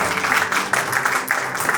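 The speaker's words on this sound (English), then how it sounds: "A big round of applause." Audience applause at a shoe shining competition, a steady dense wash of clapping running the whole time at moderate loudness, with no speech over it.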